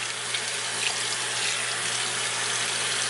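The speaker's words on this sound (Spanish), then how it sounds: "Ya nada más me lo enjuago." Tap water runs steadily while bleached arm hair is rinsed, a continuous close splashing hiss with no voices.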